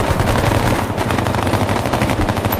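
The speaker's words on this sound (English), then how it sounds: "You hear the gun shooting." Rapid automatic gunfire from the video game Bellum, a loud, continuous stream of close shots with dense rattling bursts and no pauses, alone without voices.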